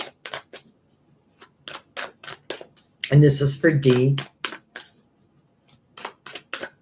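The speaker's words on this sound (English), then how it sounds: "Let's give it a couple good shuffles though." Tarot cards are shuffled in a rapid series of crisp riffling bursts, close and fairly loud, with a short stretch of speech breaking into the middle of the shuffling.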